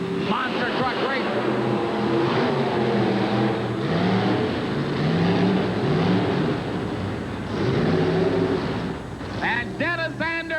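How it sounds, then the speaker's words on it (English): Roaring engines of 1988 monster trucks lined up for a head-to-head race at an arena show in St. Paul, Minnesota, a loud continuous drone running beneath an excited announcer's voice. "Monster truck race."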